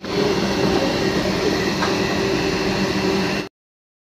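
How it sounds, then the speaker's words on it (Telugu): A Vande Bharat express train rolls into the Ramagundam station with a continuous low rumble and a mechanical hum, steady and fairly close, then cutting off abruptly. "ఇదే వచ్చేసి వందే భారత్ ట్రైన్"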